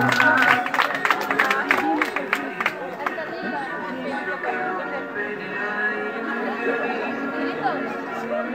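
Guests at a quinceañera party clap in a brief flurry of applause. The clapping fades into steady crowd chatter and babble that fills the room.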